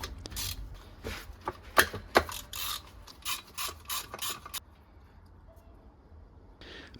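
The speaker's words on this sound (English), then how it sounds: "Give the wrench a sharp tap to shock the locking nut as shown." A wrench on the rear sprocket nut of a Honda CB125F motorcycle is struck with a series of sharp metallic taps and ratcheting clicks, close and uneven, then falls quiet.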